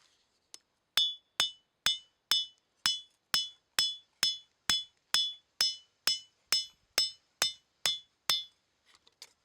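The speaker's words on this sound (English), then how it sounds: "As you can see, I am forging outside." Outdoors at a forge, a hammer strikes N690 stainless steel knife parts in a steady run of about sixteen sharp, ringing metallic blows, evenly spaced and close, with no talking.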